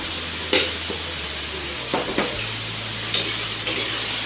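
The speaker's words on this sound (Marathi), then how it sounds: "तर आपण छान आता फ्राय करून घेऊ कांदा आपला." Sliced onion with salt frying in oil for chicken dum biryani, a steady close sizzle punctuated by a few light utensil clinks and stirring taps.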